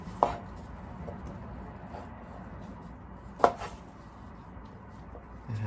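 A kitchen knife chops coriander and tomato on a cutting board for a Thai boiled-egg salad, with a few sharp isolated knocks spaced seconds apart over a quiet background.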